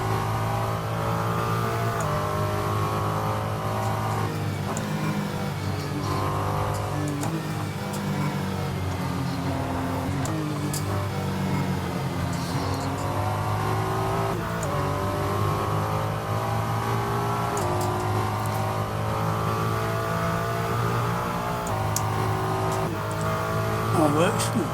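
Ferrari 296 GT3 race car engine in the racing game Assetto Corsa, a steady loud drone that rises and falls through revs for the whole stretch, with someone talking over it throughout.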